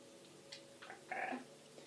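A cat meows inside the Minecraft video game, a few short, faint mewing calls in a quiet in-game setting with no voices over them.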